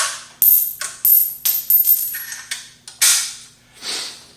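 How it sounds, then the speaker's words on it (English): A spring-loaded firearm extractor throwing a round out of the ejection port: a run of sharp metallic clacks and rattles, close and crisp, spaced irregularly with brief pauses and no voices. "the extractor, which is spring loaded, throws the round out of the ejection port"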